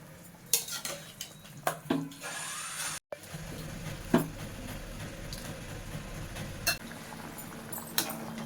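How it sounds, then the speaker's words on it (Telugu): Country chicken curry is stirred in a pot, with repeated metal clinks and scrapes of a spoon against the pan over a low bubbling simmer, close and irregular. "అంతా ఒకసారి ఇట్లా కలుపుకోవాలి"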